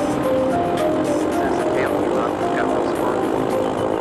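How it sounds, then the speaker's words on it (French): Light single-engine propeller airplane accelerating down the runway at Pierce County airfield in Washington State during a failed takeoff attempt, its engine drone steady and loud throughout, with a voice talking over it. "L'avion prend de la vitesse"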